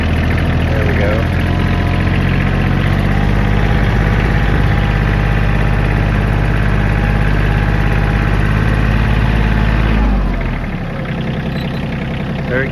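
A Kioti CK27 compact tractor engine drones loud and close while driving in gear, a steady low rumble with mechanical rattle that holds for about ten seconds before easing off near the end.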